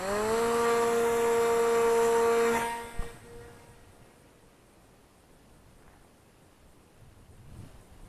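An XK A160 J3 Skylark Cub RC plane, a 650mm-wingspan model, gives a loud, high electric motor whine for about two and a half seconds before it cuts off abruptly, leaving faint breezy outdoor quiet.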